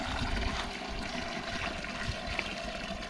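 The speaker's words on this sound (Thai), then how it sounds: "น้ำยังไหลนะครับแต่ไหลค่อยขึ้น" Water flowing steadily from a pump run by a 140 W amorphous solar panel, a continuous close trickling and gushing wash with no talk.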